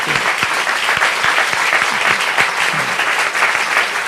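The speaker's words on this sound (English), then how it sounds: "How about a round of applause again for Dr. McGregor and Dr. Chung for this interesting discussion." Audience at the Culture Academy Singapore launch lecture applauding Dr. McGregor and Dr. Chung, a steady, fairly loud burst of many hands clapping that holds evenly throughout.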